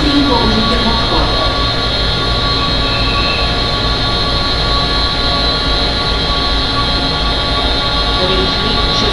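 Express train standing at a station platform in Púchov, Slovakia, a steady loud mechanical hum and rail noise throughout, with a faint public-address announcement in the background.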